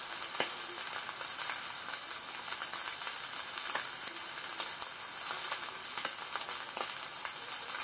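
A steak sizzles in a pan in an off-grid house, a loud, continuous high-pitched hiss dotted with frequent small pops and crackles, with nobody speaking.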